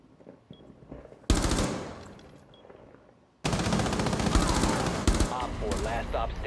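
Automatic gunfire in the tactical shooter Rainbow Six Siege comes in two loud bursts of rapid shots, separated by a brief quieter gap filled with game sounds.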